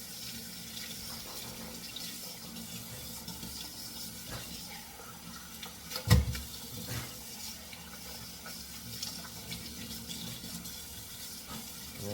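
Cornish hens rinsed under a running kitchen tap, a steady close rush of water into the sink with brief splashes and one sharper knock partway through.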